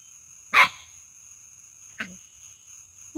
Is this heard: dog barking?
yes